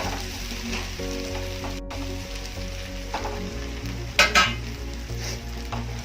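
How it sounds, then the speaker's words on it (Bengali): Fried potatoes go into a sizzling, well-cooked spice paste in oil for a Bengali potato and Bombay duck dish, with a steady close sizzle, a brief clatter of utensils, and a low background hum. "ভেজে রাখা আলুগুলো দিয়ে দেবো এবার।"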